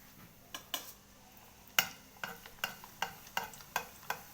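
Oudinat al qadi pastries fry quietly in oil, a soft sizzle broken by a series of sharp utensil clicks and taps.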